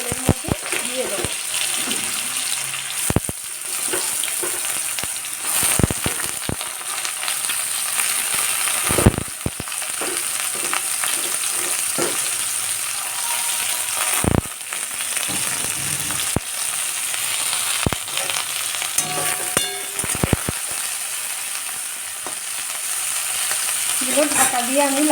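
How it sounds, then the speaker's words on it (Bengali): Salt-and-sugar-coated vegetable pieces fry in hot oil with a steady close hiss throughout, broken by sharp clattering spikes of stirring and utensil knocks, with brief voice sounds in places. "নুন চিনি মাখানো হোপাগুলো আমি তেলের মধ্যে দিয়ে দেবো"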